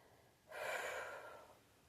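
A single heavy, breathy exhale rushes out for about a second as someone catches their breath, close to the mic with no talking.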